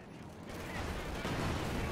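Gunfire rings out in a Company of Heroes 2 match, a dense burst of shots that starts after a short quiet moment and continues as sustained volleys.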